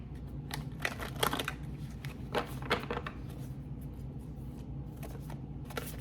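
Oracle cards being shuffled by hand in a quiet room, a run of soft riffling bursts and papery flicks with short pauses between them, close and fairly faint over a low steady hum.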